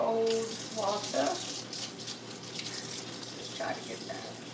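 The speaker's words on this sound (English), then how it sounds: "Turn it to cold water." Cold water running steadily from a kitchen tap, a continuous broadband hiss heard close, with a few brief bits of speech over it early and near the end.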